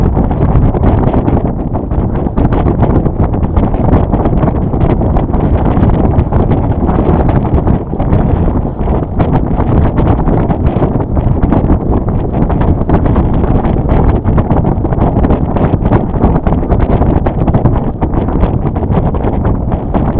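Wind rushes steadily across the microphone aboard a Potter 15 sailboat close-hauled in a stiff breeze, a loud continuous roar of gusting air and water with no voices.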